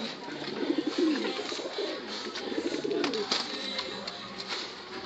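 Young racing pigeons coo in a loft, their soft overlapping throaty calls rolling on continuously and close at hand, with brief light chirps and background rustling.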